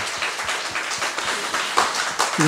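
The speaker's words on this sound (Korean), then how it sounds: "박수로 한번 영광을 올릴까요?" A church congregation clapping together after a sung call-and-response at a Korean service, a brief burst of rhythmic, fairly even handclaps filling the room.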